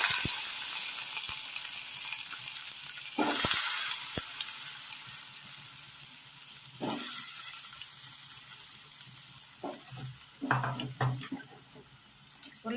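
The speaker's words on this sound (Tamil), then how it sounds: "ஒரு பாத்திரம் வச்சு அதில் எண்ணெய் சேர்த்துட்டு அதோட உருளைக்கிழங்கு" Potato pieces hit hot oil in a pan for a potato and cauliflower masala, giving a close sizzle that rises and fades, with scattered stirring clatters and brief bursts of louder frying.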